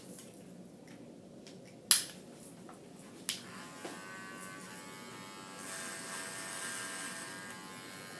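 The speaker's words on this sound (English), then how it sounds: "I'm going to use a number 4 clipper guard and take all that hair off." Electric hair clipper fitted with a number 4 guard cutting hair on the sides and back, a few sharp clicks and taps, then a steady faint buzz that continues to the end.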